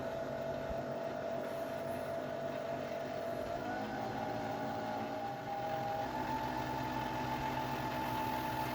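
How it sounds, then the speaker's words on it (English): A sewing machine winds a bobbin with a continuous close motor whir whose pitch shifts slightly midway and then holds steady. "You are now ready to wind your bobbin."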